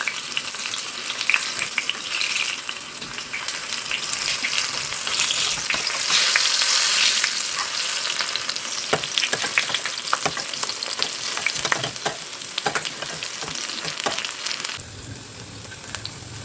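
Eggplant fritters fry in hot oil, giving a dense, steady sizzle with crackling pops and occasional clinks of stirring, close and continuous before settling slightly quieter near the end.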